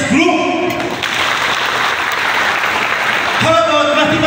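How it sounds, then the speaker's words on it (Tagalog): Science group teachers applaud in a seminar hall, a dense burst of clapping that swells over a few seconds, with a voice speaking at the start and again at the end. "Pumalakpak na ang mga taga-science group."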